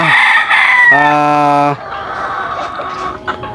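A Sweater-breed gamefowl stag crows once, loud and close, a harmonic-rich call lasting under a second, followed by quieter background farmyard noise with faint clucking.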